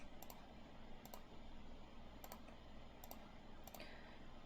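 Keys on a calculator are pressed in short clusters of quick, faint clicks, about five small bursts spread evenly over a few seconds in a quiet room with a low background hum.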